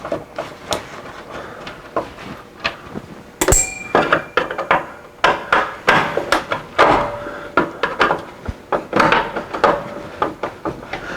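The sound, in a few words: removing screws from furnace squirrel cage fan cover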